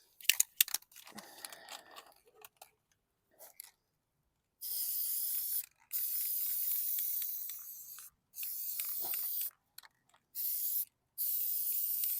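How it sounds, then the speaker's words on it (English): An aerosol can spray-paints a junk lawn mower in several sustained hissing bursts of a second or two each, separated by silences, after some handling clicks and rattles at the start. "I'm just going to start painting."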